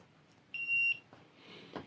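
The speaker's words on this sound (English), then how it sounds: "Goes through a self-diagnostics check and you get a beep." A Defiant electronic deadbolt gives a single clear, high electronic beep of about half a second during its self-diagnostic check, close and alone, followed by faint clicks and handling noise.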